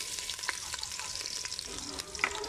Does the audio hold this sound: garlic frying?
yes